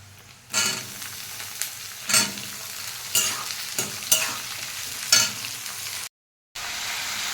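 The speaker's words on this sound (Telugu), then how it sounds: "వేగుతుంది, ఇదిగోండి రసం అవుతుంది." Ivy gourd pieces with curry leaves fry in a pan, a steady sizzle broken by several louder bursts of stirring and scraping, close and clear, with a brief silent gap near the end and no talk.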